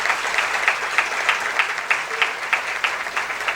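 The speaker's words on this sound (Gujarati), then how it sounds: "એને તો કોઈ શબ્દો બોલ્યા વગર જોરદાર તાળીથી વધાવીએ" Loud applause from an audience at a talk on health and closeness to nature, steady clapping with rhythmic peaks held throughout, with no voices over it.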